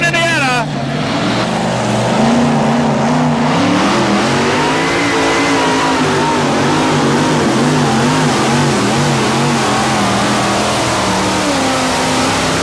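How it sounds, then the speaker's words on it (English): A tractor-pulling vehicle roars at full throttle down the track on a full pull at a 1987 pulling event in Raleigh, the engine's loud sustained howl rising and wavering steadily throughout, with an announcer's voice over it. "Tim Engler takes it all the way down the track for a full pull"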